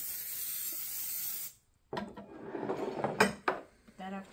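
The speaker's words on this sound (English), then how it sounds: "So we need to spray the pan" A baking pan gets sprayed with cooking spray: a steady, close aerosol hiss for about a second and a half, then a pause and clinks and knocks of pans and utensils being handled.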